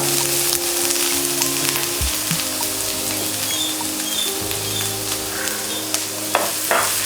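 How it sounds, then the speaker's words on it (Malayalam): Finely chopped ginger frying in hot oil with mustard seeds, a close, steady sizzle with crackling pops and a few stirring scrapes, no voices. "നമ്മൾ ഫൈനായി ചോപ്പ് ചെയ്ത് വെച്ച ഇഞ്ചി നമ്മൾക്ക് ഇതിലേക്ക് ഇട്ട് കൊടുക്കുക"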